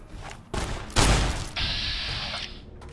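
Gunshot in Fallout: New Vegas, a sharp single blast near one second following a softer thump, then a sustained ringing hiss trailing off, with no voices.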